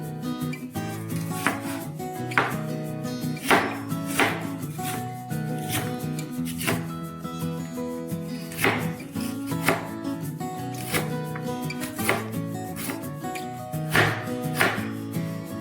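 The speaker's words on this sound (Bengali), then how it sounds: "পেঁয়াজটাও এবার কুচি করে কেটে নিই।" An onion is finely chopped with a knife on a board while making soya chunk kofta curry: steady, quick rhythmic blade strikes repeating close by for the whole stretch, with no talking.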